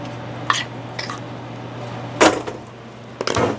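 Cold carrots seasoned with salt and garlic powder being tipped and scraped into a slightly bigger bowl, giving a few light clinks followed by a louder clattering scrape and a final knock of utensil against the dish, close by.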